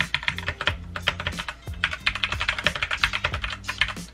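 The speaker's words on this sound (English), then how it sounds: "it's so different than typing on my other one" Rapid, uneven typing on a new computer keyboard, a Red Dragon model, with dense clattering keystrokes in bursts and one short pause, close and fairly loud with no voices.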